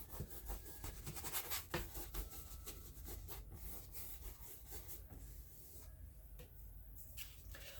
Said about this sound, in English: I'm emptying the paint off of my brush, doing little crisscross strokes